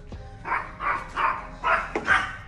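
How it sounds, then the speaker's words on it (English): Dogs bark five times in a steady series of sharp, fairly close barks over a low background hum, with no talking. "The dogs are barking already."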